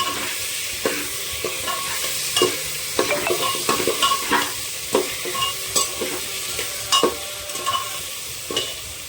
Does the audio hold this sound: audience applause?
no